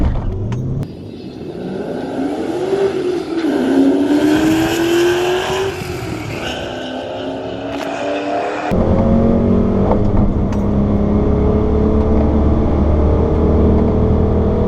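A dyno-tuned car at full speed on a race track, its loud engine note climbing and shifting through gears close by, with a steady roar and rising pitch sweeps and no talk.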